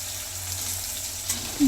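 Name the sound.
frying dried chilli and chopped tomato in a pan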